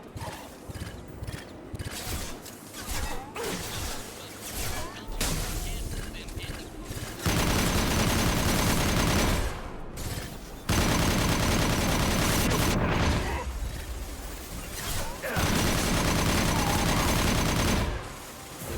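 Bursts of gunfire ring out in the video game Mass Effect Legendary Edition 2, with dense rapid volleys broken by short lulls, loud and close, layered over game noise and clattering effects.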